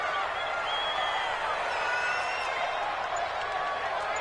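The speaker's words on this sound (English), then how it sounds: "The crowd getting into it as we come up on a big 3rd down." A stadium crowd in a Madden football video game roars steadily ahead of a big third down, a dense, constant wall of cheering with no pauses.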